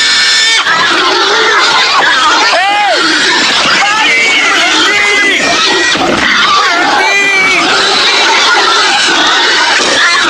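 Pigs grunt, squeal and oink in a loud, busy chorus over shouting voices in a Bible film scene of the herd possessed by evil spirits, with overlapping cries and crowd commotion throughout.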